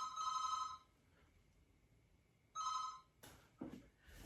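An indoor telephone rings in two short bursts of bright trilling bell tones separated by a pause, followed by a brief clatter of handling, fairly quiet with no speech.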